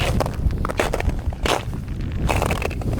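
Crunchy footsteps on hard frozen lake ice during a winter storm in Alaska, steady and close, with strong wind rumbling underneath throughout.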